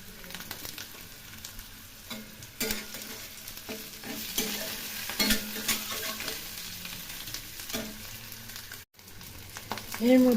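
Cumin seeds dropped into hot oil with fried potatoes for an egg curry, sizzling and crackling steadily at close range with stirring scrapes throughout and a brief pause near the end.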